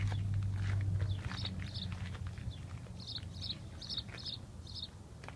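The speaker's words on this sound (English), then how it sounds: "That's a loud bird." A loud bird calls outdoors near a 2006 Ford diesel King Ranch truck, giving a series of sharp, high chirps in short repeated bursts, about seven in all, over low background rumble.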